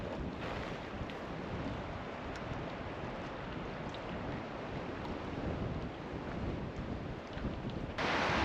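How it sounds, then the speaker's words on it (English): Steady wind roars across a wilderness lake shore in Canada where whitecaps churn the water, a broad, constant rush close to the microphone that gusts harder near the end, with no voices. "the wind's picking up"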